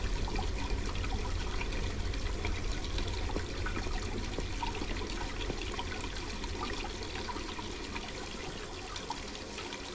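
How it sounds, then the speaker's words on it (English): Boiling hot water runs continuously and evenly in the video game Black Mirror 2, a steady rushing trickle heard close up with no talking. "The water is boiling hot."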